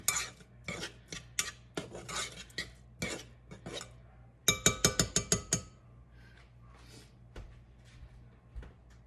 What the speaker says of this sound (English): And then we're going to stir that up.